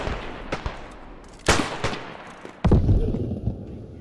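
Artillery shell impacts in the WW1 shooter Beyond the Wire, a few sharp cracks and thumps scattered over several seconds, with a heavy, close blast near the end followed by rumbling debris.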